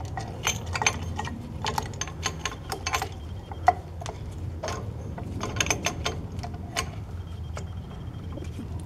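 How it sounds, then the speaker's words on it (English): Small brake caliper piston compressor tool on a Mazda 3 being threaded in and tightened, giving a run of close metallic ratcheting clicks and ticks at an irregular rhythm over a low background rumble. "I prefer to use this little compressor deal, and all it does is thread in"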